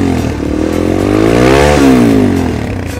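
Motorstar Z200s motorcycle with its stock exhaust pipe revs up close, the engine note climbing to a peak in a single rising blip and then dropping back to a steady idle-like drone.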